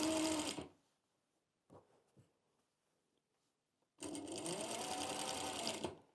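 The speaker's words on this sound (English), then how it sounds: "I will do a small seam" A sewing machine stitches a small seam on a thrifted garment leg, two loud continuous bursts of motor-driven stitching at the start and end with quiet handling in between.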